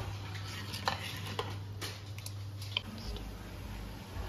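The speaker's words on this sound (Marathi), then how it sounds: "ही जी आपण ग्रेव्ही केलेली आहे ही मी उकळत ठेवलेली आहे" Veg Manchurian gravy simmering in a pan, a quiet low bubbling with a few light scrapes and taps from stirring, faint and close.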